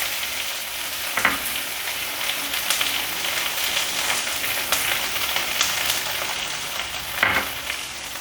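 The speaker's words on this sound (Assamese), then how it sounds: "এতিয়া এইখিনি অলপ ৰঙচুৱা পৰালৈকে ভাজি ল'ব লাগিব।" Chopped large onion frying in oil in a pan, a steady crackling sizzle with occasional louder pops and stirring scrapes, close and continuous with no talking.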